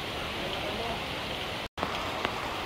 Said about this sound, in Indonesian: Airnya jatuh di tebing. Terus di bawah kayak lagi hujan.